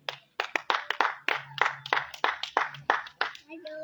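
A handful of people clapping at a political gathering in Gabon, about a dozen distinct claps in a fast irregular rhythm, close and fairly loud rather than a full crowd's applause.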